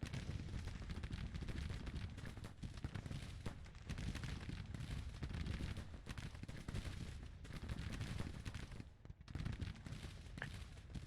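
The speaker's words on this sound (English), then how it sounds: "go ahead and just shoot him" Massed musket and cannon fire from a Civil War battle at Louisville in the strategy game Grand Tactician: The Civil War, a dense, continuous roar of overlapping shots with no pauses and no talking.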